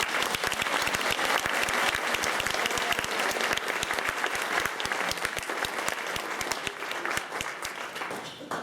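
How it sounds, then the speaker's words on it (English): Audience applause honoring Sister Barbara Moore at a Kansas City breakfast gathering, steady dense clapping from a crowd that holds for about eight seconds before easing slightly at the end. "Please join me in applauding Sister Barbara Moore"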